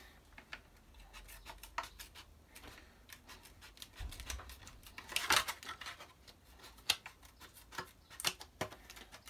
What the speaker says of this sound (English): As you can see, the Lexan scissors, they fly through it pretty quick